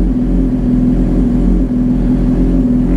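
A Suzuki GSXR1000 motorcycle fitted with a Healtech iQSE-1 quickshifter sits with its engine running at idle and the clutch pulled in, a loud, steady close rumble with a faint regular pulse and no voices.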